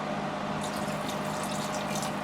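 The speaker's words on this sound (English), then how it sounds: "Let's add a little bit more water." Water trickles steadily into a homemade slime mixture, a continuous close pouring wash with no pauses.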